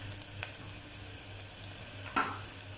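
Onions sautéing in a pan for coconut milk rice, a soft steady sizzle with a few sharp utensil scrapes and taps against the pan; quiet and close, with no talking.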